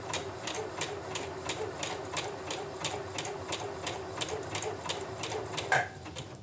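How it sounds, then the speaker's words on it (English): A sewing machine runs in reverse while stitching tote bag appliqué, a steady close mechanical hum with regular ticking needle strokes throughout, no talking. "I'm going to use the quick reverse button to go backwards so that my stitches don't come undone"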